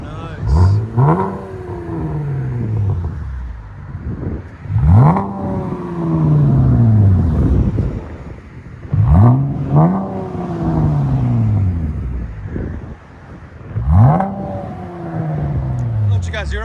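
Four strong throttle blips from a 2017 Chevy Camaro RS 3.6L V6 fitted with an X-pipe and Flowmaster axle-back exhaust, each rev climbing and sweeping back down to a steady, loud idle rumble.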